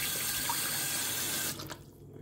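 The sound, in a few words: tap water running while washing food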